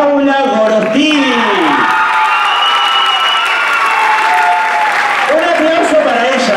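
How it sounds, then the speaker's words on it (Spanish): A crowd at a choreography show cheers and applauds loudly for a dancer, with whoops and shouting voices over sustained clapping that stays strong throughout. "Un fuerte aplauso para Paula Álvarez."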